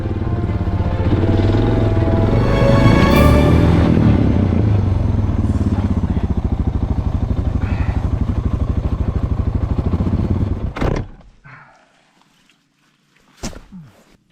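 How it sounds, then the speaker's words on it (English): A Suzuki DR650 dual-sport motorcycle rides a slippery outback dirt road, its single-cylinder engine thumping loud and steady for ten seconds before cutting out, followed by near silence and a couple of clattering knocks. "I got the bike back up and I was back on the road towards Timbuburra, still following the tracks of the bikers ahead."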